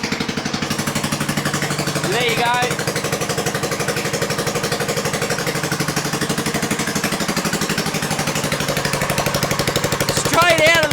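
A vehicle engine with no exhaust fitted, its front axle not yet installed, idles loudly and steadily with a harsh, rapid clatter throughout, close by, while someone speaks briefly over it.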